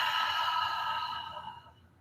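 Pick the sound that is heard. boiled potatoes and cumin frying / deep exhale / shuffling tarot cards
deep exhale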